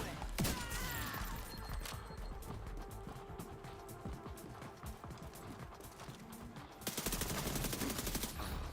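The Cold Relations gun fires in The Division 2, sharp bursts of loud gunfire with mechanical clacks and rattles between shots, followed by a fast continuous stream of shots near the end, with a voice talking over it.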